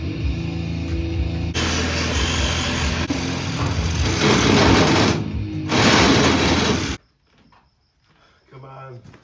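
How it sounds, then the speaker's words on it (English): A power saw cuts through the concrete wall of a silo, a loud sustained grinding whine that runs for about seven seconds with a brief dip in the middle before cutting off, followed by near quiet and a faint later sound. "and then cut the concrete."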